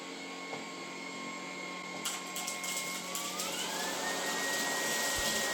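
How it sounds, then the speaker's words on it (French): A Dreame R20 cordless stick vacuum with a multisurface brush, its centre flap open, sucks up large debris with a steady high whine and airflow hiss that rises in pitch midway, with rattling pickups of particles. "j'ai pris soin d'ouvrir le clapet au centre de la brosse pour aspirer les gros débris"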